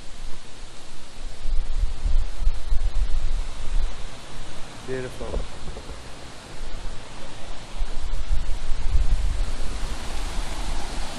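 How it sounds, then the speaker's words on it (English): Aira Force waterfall near Penrith pours with a steady, broadband rushing roar that fills the whole clip, while a nearby voice briefly speaks over the water. "You can hear the water."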